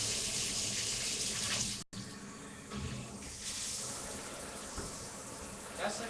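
Water from a new multi-setting shower head hisses steadily at close range, cutting out briefly before resuming with a slightly changed spray.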